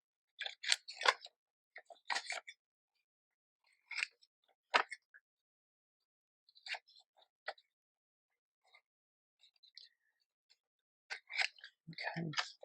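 Scissors snip along the edges of old book pages in short, crisp clusters of cuts separated by quiet pauses, close and fairly soft.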